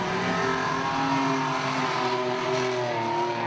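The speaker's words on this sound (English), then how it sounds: "We've actually got 7 cars running" Granada banger racing cars on the Arena Essex oval in 2013, several engines roaring loudly and continuously together as they race, with overlapping revving tones and no pauses.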